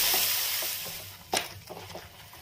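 Boiled, ground spinach puree goes into a pan of frying masala for palak paneer. A soft sizzle runs underneath, with one sharp clank and a few light stirring scrapes.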